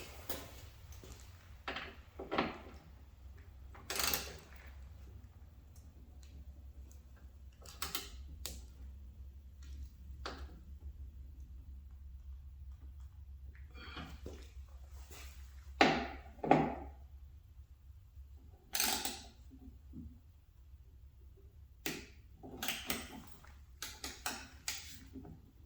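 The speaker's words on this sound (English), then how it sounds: "what we're going to use for tightening this up is a 10mm quarter drive on a quarter drive ratchet" A 10mm socket on a quarter-inch drive ratchet tightens a door latch on a Toyota Tacoma SR5, giving scattered quiet clicks and metallic clunks in short irregular bursts over a faint background hum.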